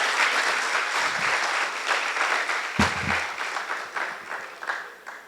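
Lively applause greets the foundation president Conrado Peguero as he enters, with dense clapping close by, a few louder thumps and bumps, and the sound swelling and easing.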